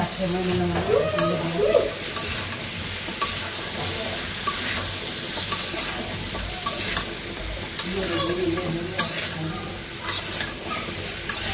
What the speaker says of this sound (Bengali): কষাই নিচ্ছি মশলার সঙ্গে।